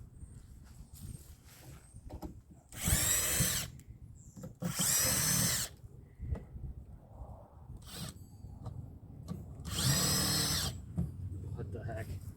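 A power drill backs screws out of a wooden raised bed in three loud, close whirring bursts of a second or so each, separated by quieter handling noise and a voice talking.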